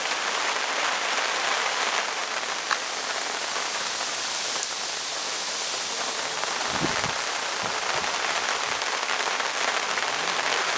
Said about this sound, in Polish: Pada deszcz, wieje wiatr.